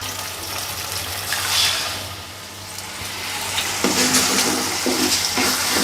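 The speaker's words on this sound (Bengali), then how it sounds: "তো ডিমটাকে ঝুরো ঝুরো করে ভেজে ফেলতে হবে।" An egg frying in a little oil in a pan, being broken up and scrambled while it cooks, sizzles steadily and close up, with a stirring scrape and a brighter crackle near the end, and no talk.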